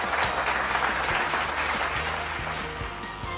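An audience at a first-anniversary celebration of a daily news outlet claps loudly and steadily throughout, a dense wash of applause with a low musical hum underneath.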